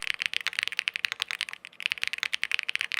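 Rapid typing on a Chilkey ND TKL aluminum mechanical keyboard with stock switches, close and crisp, a steady stream of clacky keystrokes with a brief pause midway.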